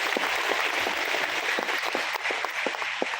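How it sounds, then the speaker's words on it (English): Audience at a leadership training event applauding, a dense continuous patter of claps at moderate level throughout. "Can we give an applause to Riway?"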